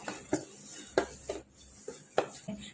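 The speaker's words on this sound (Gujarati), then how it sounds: "હવે થોડુંક તેલ એડ કરીશું મિક્સ કરી લઈશું" A spoon scrapes and taps against a bowl while poha roll dough is mixed with a little oil, giving quiet, irregular clinks and scrapes in a rough rhythm, close by and alone.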